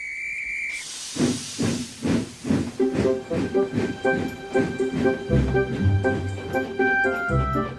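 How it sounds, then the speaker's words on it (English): A steam locomotive on a railway gives a sharp burst of hissing steam, then settles into loud, steady rhythmic chuffing with ringing metallic tones as it works along the line. "Soon Emily was steaming up hills and through valleys."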